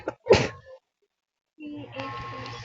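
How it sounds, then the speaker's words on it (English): A single sharp sneeze bursts out close by, followed by a brief pause and then background game music and noise. "I sneezed."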